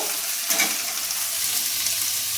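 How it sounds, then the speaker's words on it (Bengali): Bottle gourd greens and vegetables fry in oil in a wok, a close, steady hiss of sizzling with a brief scrape of stirring partway through. "এখানে আমি সমস্ত সবজিগুলো আমি একবারেই দিয়ে দেবো কড়াইয়ের মধ্যে, দিয়ে ভালো করে ভেজে নেব"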